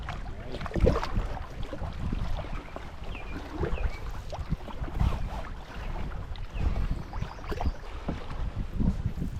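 Canoe paddled across a lake in the Boundary Waters on a windy, rainy morning, with soft water swishes and knocks under steady wind buffeting, moderately loud and continuous, no talking.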